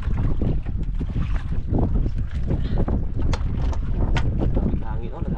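Strong wind roars steadily across the open sea around a small fishing boat out for grouper, a constant loud rush buffeting the microphone with no letup.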